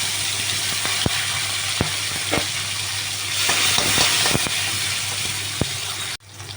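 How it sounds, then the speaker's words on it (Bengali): Chopped tomatoes dropped into a pan of oil with black cumin and dried chilli, frying with a steady sizzle and occasional stirring clicks, close and fairly loud, cutting off sharply near the end. "আমি এবার টমেটো কুচিটা দিয়ে দিলাম।"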